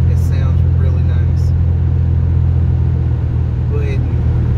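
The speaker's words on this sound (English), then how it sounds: "I want you to hear this cold air intake I got on the car." A V6 VTEC engine in a 2002 Honda Accord with a cold air intake rumbles steadily at idle with a deep, loud low drone, and a few faint higher noises pass over it.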